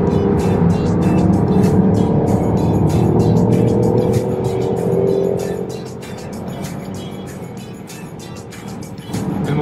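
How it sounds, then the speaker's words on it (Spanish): A Dodge Durango, with no V8, revs hard in Sport mode with downshifts, a loud, continuous engine roar that swells and then eases off, with road noise around it and no talking. "El motor la verdad suena bastante bien"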